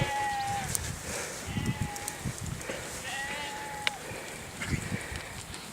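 Sheep bleat out on the Pennine Way moorland near Bellingham, several calls rising over a steady wind-like hiss, with scattered rustling and thuds nearby.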